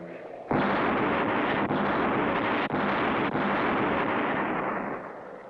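Cartoon cannon fire from pirate ships booms into a loud, sustained roaring blast that rumbles on for several seconds with a few brief dips, then slowly tapers off at the end, with no talk over it.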